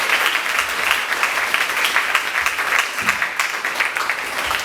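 A church congregation applauding, a steady, loud wash of hand claps from many people filling the room throughout, with no break.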